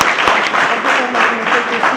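Audience applause for student responders at a science debate event, a steady dense wash of many hands clapping that fills the whole stretch at even loudness.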